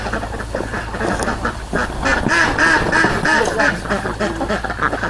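Several ducks quack steadily and loudly up close, a continuous overlapping chorus with no pauses.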